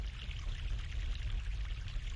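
Fresh mountain water streams and pours steadily in The Longest Journey, a continuous close rushing wash with a low rumble underneath, no voices present.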